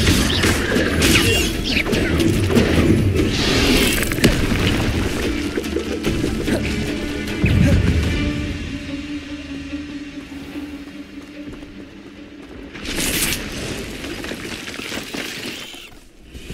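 Incendio fire spells go off in the game Hogwarts Legacy, crashing, whooshing bursts in a busy fight that swell and fade, with a sharp flare near the end and no talk.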